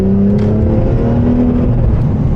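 A BMW driving on a wet road, a steady close engine drone with smooth tonal whine and constant road noise, no talk.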